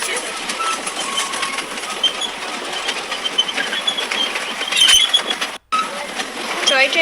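A toy train carries riders around Nicco Park amusement park, a steady clattering, rattling run that stays close and fairly loud throughout, briefly cutting out near the end before resuming.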